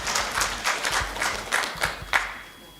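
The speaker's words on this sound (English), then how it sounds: "We should also all be clapping because I think she's traveled the farthest" Audience applause at a learning and transition event, a moderate burst of clapping from a seated crowd that swells briefly and then fades out.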